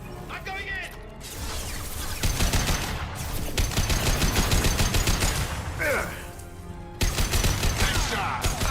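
Dense, rapid gunfire from the video game Mass Effect 2, loud and nearly continuous bursts with crashes and mechanical clatter, under a voice talking now and then.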